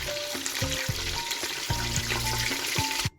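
Spring rolls sizzle and crackle steadily as they fry in a pan, with repeated clacks of chopsticks stirring and separating them, close and fairly loud throughout.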